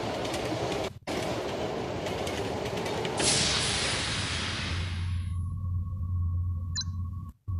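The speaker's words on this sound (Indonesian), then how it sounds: "Wow, kita berada di dalam kereta coy" Subway train ride in the video game SAS Zombie Assault 4: a loud, steady rolling rumble with rattling that cuts off abruptly, leaving a low hum and a thin sustained tone.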